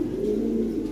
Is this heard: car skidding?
no